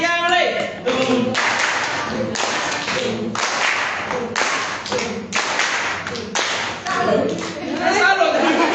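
A group performs a rhythmic clapping cheer in a training session, with loud synchronized claps and thumping beats in repeated bursts under voices and chatter.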